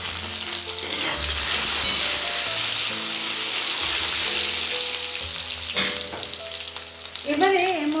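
Bottle gourd stems frying in a pan, a steady loud sizzle with stirring and scraping over it, close up, and a brief clatter near the end.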